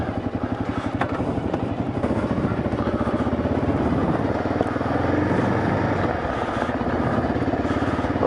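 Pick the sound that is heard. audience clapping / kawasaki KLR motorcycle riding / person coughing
kawasaki KLR motorcycle riding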